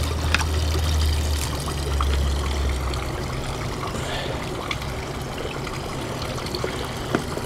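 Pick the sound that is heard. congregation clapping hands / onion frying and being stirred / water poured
water poured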